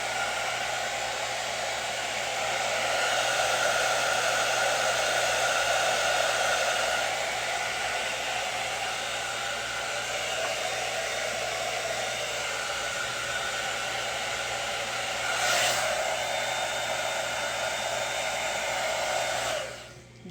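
A hair dryer blows hair with a steady, loud whoosh and whine that runs nonstop for the whole stretch, close to the mic with no voices, then cuts off at the end.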